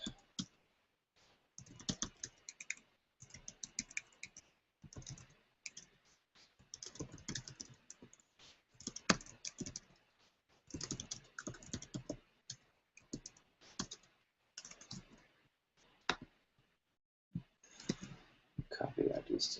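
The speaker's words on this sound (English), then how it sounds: "So let me just type this up real quick." Fast bursts of typing on a computer keyboard clatter close by, with brief pauses between runs of keystrokes, fairly quiet and with no one speaking.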